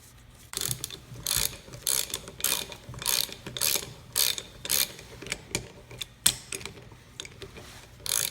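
A hand ratchet tightens the bolts on a Dana 30 Spartan locker, its pawl clicking in steady repeated bursts of rapid ticks, close and crisp, with short pauses between strokes and no talking.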